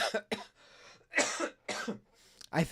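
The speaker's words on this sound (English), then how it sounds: "Sorry about my coughing, by the way." Several sharp coughs in quick bursts, close and fairly loud, with short pauses between them.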